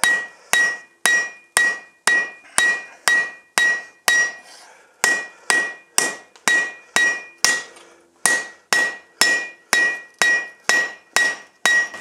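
A blacksmith strikes hot metal on an anvil with a cross peen hammer, ringing close and loud in steady bursts of rapid evenly spaced blows separated by brief pauses, with no voices.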